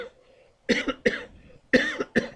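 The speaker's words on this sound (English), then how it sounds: "As I cough after that deep breath." Four sharp coughs in two quick pairs, close and loud, separated by brief quiet gaps.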